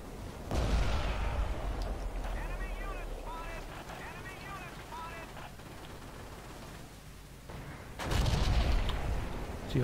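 Sherman tank cannon in the video game Forgotten Hope 2 on a snowy map, two heavy booming shots several seconds apart, the first near the start and the second near the end, with wind noise and a low rumble filling the gap between them.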